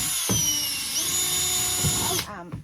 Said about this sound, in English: Are you going to drill some holes?